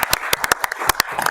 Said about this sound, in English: Let's just clap for everybody at the Sheriff's Office and Cheryl